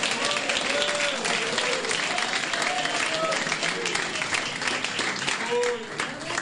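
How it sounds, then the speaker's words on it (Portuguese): A church congregation applauds in praise of Christ during a Portuguese-Spanish sermon, a steady dense wash of clapping held at even loudness throughout, with voices and faint tonal sounds mixed underneath. "Palmas para Cristo."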